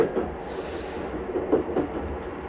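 Train carriage rolling along the rails at night, a steady low rumble with faint rhythmic clatter and a few soft knocks, continuous and close, with no speech.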